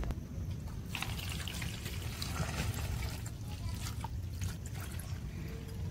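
Water is poured into a pot for boiling balut, a continuous close trickling and splashing stream over a steady background, with faint talk in the background.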